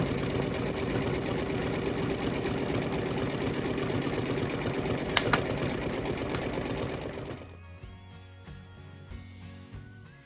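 An embroidery machine stitches filigree on a Kimberbell Main Street Celebration Fire House block, a steady loud rapid mechanical whir that runs for about seven seconds before stopping and leaving a quieter hum.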